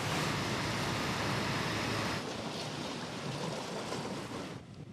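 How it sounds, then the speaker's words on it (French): Strong wind and swelling waves wash around a barge towed at sea, a dense, loud roar of surf and gusts that eases slightly partway through, with no voices. "Le vent s'est levé. Les vagues ont enflé."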